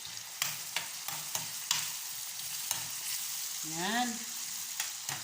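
Onions fry steadily in a pan, a quiet continuous sizzle with light stirring clicks; a brief word is spoken near the end.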